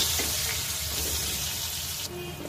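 Onion frying in a wok with fish head, dry red chilli, bay leaf and five-spice tempering for a bottle gourd dish; a steady close sizzle and crackle with soft stirring, ending in a brief wet scrape.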